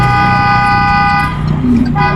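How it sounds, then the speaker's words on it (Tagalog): A car horn sounds close by in a long steady blare at a no-turn-on-red intersection, then a second, lower horn joins near the end, over a constant rumble of traffic. "May mga, may busina ng busina sa likod."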